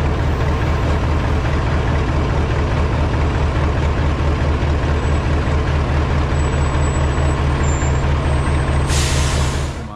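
A vehicle idles with a loud, steady low rumble while parking on a street in Santiago, Chile, and a hiss of air bursts out near the end.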